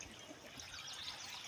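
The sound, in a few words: water running during gold prospecting cleanout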